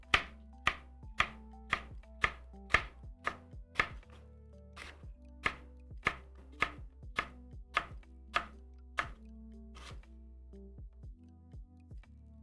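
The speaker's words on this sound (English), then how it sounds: "We're just gonna cut little, like, half moons of these peppers" Knife chopping peppers into half-moon slices on a cutting board, about twenty crisp, evenly spaced taps close by, with a steady background hum and no talk.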